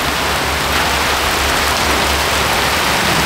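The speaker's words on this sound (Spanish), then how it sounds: "se está viniendo la lluvia mucho más fuerte" Heavy rain pours down in a dense, steady roar that fills the whole moment, loud and close with no break, and no one speaking over it.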